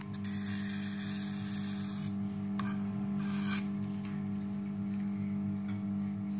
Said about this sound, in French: avec mon éponge, je vais pousser ma terre sur mon esteck